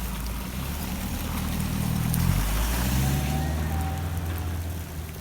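A four-wheel-drive vehicle skirting a muddy bog hole after rain, a loud steady engine drone with a deep low rumble that rises slightly and eases off, heard from inside or close by.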